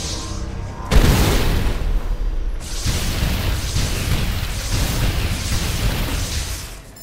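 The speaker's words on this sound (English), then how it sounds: "The big explosion does seem to skip the intermediary step." A big explosion in the video game Ori and the Blind Forest: a sudden loud boom that gives way to a sustained, dense rumbling roar lasting several seconds before fading.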